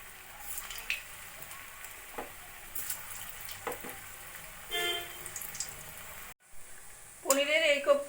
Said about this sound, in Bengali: একইভাবে আমি বাকি কোপ্তাগুলো ভেজে নেব।